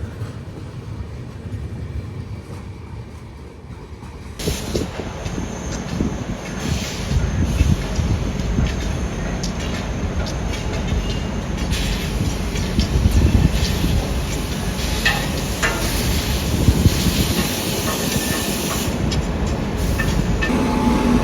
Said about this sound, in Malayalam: ഇതാണ് ബാംഗ്ലൂരിൽ നിന്ന് മുംബൈക്ക് പോകുന്ന ഉദ്യാൻ എക്സ്പ്രസ് ട്രെയിൻ നമ്പർ 11302